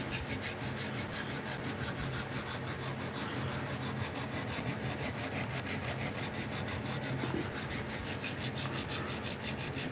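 Steady abrasive rubbing of a pair of tweezers being sharpened, a continuous rasping scrape with a faint repetitive stroke pattern, close and fairly quiet with no talk.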